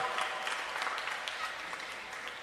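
An audience at a sixth-grade academic bowl competition gives a round of applause, a steady, fairly faint patter of many hands clapping that continues throughout.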